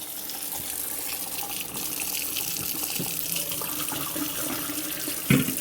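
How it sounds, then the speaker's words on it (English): Water pours and gushes steadily from a pot of spaghetti as it drains in a kitchen, a continuous close splashing stream with a short clunk near the end. "Drain a little water out of it"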